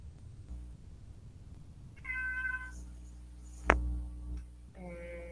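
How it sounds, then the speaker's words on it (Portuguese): Pet cat meowing for attention indoors, a few drawn-out meows close by with a sharp tick in between, faint over a quiet room. "Vocês vão ficar ouvindo meu gato miando porque ele é um manhoso e ele quer atenção."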